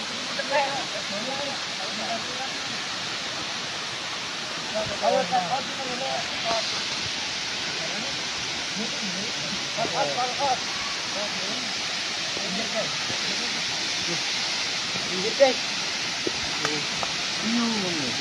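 Tancak Tulis waterfall roars as a constant broad wash of falling water. Faint voices and a few footsteps or bumps rise briefly above the steady rushing.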